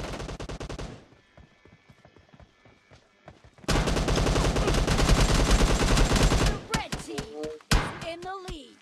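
Rapid bursts of gunfire in a PUBG Mobile team deathmatch, loud and dense automatic fire in two stretches separated by a quieter lull, with a voice talking briefly near the end.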